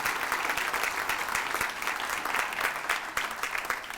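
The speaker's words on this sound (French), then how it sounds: "Un gros applaudissement." Guests at a 40th anniversary gala for the Fondation Hôpital de La Malbaie give a warm round of applause, a full, even crowd clapping that stays strong throughout the few seconds, with no talking over it.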